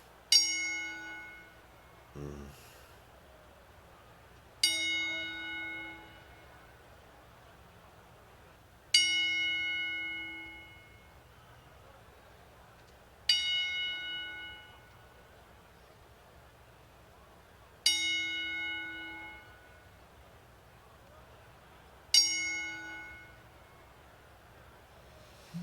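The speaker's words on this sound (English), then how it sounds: "Bell salute." A ring bell tolls in a wrestling arena as a salute to a deceased wrestler, with six evenly spaced, ringing strikes several seconds apart, each fading slowly, with no talking.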